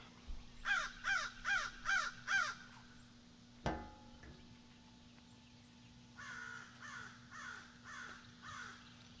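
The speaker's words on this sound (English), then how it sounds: "the crows are mobbing now." Several crows caw harshly in a quick run of about five calls while mobbing, then a sharp knock sounds, and a softer, more distant burst of cawing follows against a steady low hum.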